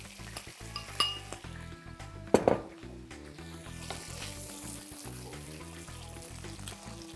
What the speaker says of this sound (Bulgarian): Вземаме още малко масло и го добавяме в тиган и на същото време бобче, бяло боб.